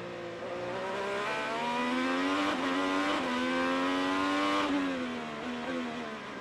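An IndyCar race car on the Nashville street circuit, its engine droning loudly and steadily as the pitch rises and falls with the revs, no talking over it.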